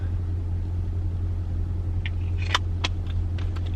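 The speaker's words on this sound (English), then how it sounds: "I'm letting my car heat up." A car engine idles steadily on a cold, rainy day while warming up, giving a constant low rumbling hum, with a few brief sharp clicks and clatters near the end.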